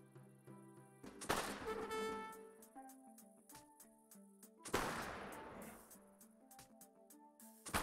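Two bursts of gunfire from Argentine mercenary units in Age of Empires, with a game soundtrack of short tones underneath, the shots loud and close, separated by a few quieter seconds.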